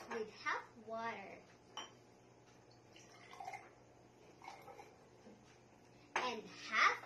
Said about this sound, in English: I will fill the glass with half water